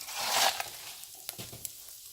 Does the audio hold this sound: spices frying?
yes